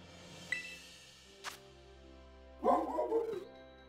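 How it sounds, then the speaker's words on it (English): A puppy-like Pokemon in Pokemon Violet gives a few short yips and a brief burst of barking, quiet and close, against soft game background tones. "Puppy sound."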